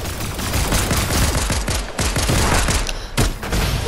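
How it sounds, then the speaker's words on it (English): Gunfire in a shooter video game, loud sustained automatic bursts of rapid shots with a few separate louder cracks, filling the whole stretch with no talking. "Nice shot, Smiley."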